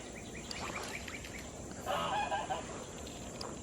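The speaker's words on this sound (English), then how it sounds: "hear the goose?" A white goose honks once, distant and fairly faint, during an outdoor fly-fishing outing, with a low steady background wash around it.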